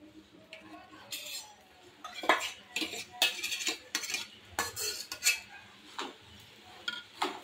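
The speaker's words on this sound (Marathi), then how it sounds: "साखर विरघळेपर्यंत छान मी ढवळून घेते" Sugar and lemon paste are stirred in a pan while the sugar dissolves, making repeated soft scraping and clinking of a spoon against metal in an uneven rhythm, with a low background hum.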